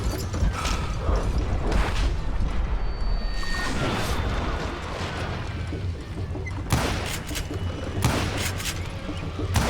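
Gunfire from a Call of Juarez: Gunslinger shootout, with loud repeated shots and booming impacts over a continuous rumble, broken by brief bursts of game dialogue.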